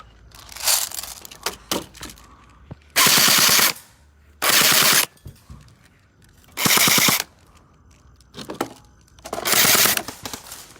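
Bursts of rapid automatic gunfire rattle loudly at a shooting range, several long strings of shots separated by short pauses, with faint rustling between volleys.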